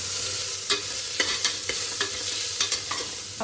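Ginger garlic paste and sautéed onions frying in a pan for biryani, with a steady close sizzle and several sharp spoon scrapes and stirring clicks spaced irregularly, no voice present.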